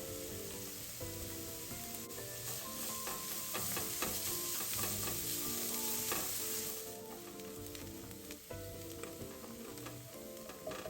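Garlic and carrots stir-fry in a wok with a steady, loud sizzle, broken by scraping and clanking from the spatula throughout, and no voices.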